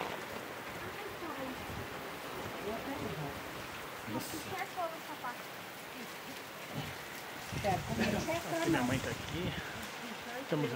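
Steady rain falls on a coffee farm in Brazil, a dense hiss of drops on surfaces and ground, continuous and fairly close, growing a little heavier toward the end with faint background activity.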